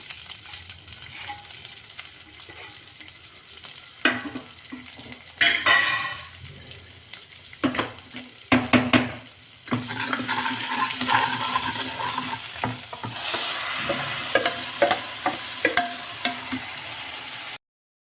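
Green chickpea leaves with salt and spices frying and being stirred in a pan, a steady sizzle with scraping stir strokes and a few louder clatters partway through, no voices.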